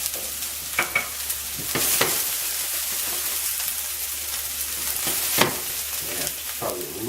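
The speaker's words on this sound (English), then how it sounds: "And then I'm just going to saute these onions." Onions sautéing in olive oil in a pan for risotto give a steady, close frying sizzle broken by a few sharp scrapes of stirring.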